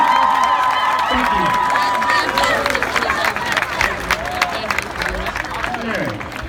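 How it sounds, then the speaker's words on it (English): Audience applause and cheering at a high school marching band competition awards ceremony, a loud sustained roar of clapping and whoops that turns into scattered claps under crowd chatter and someone speaking. "Take a round of applause."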